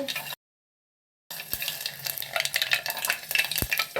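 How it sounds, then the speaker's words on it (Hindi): Panch phoron seeds and bay leaf sizzle and crackle in hot refined oil on a switched-off stove, a steady close frying hiss after a brief gap of silence, with a couple of sharp pops. "पंचफोरन डालेंगे, उसके बाद तेज पत्ता डालेंगे।"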